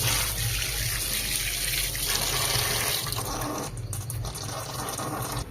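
Tap water running steadily into a sink while chicken is washed, a loud close gushing stream with shifting splashes as hands move under it.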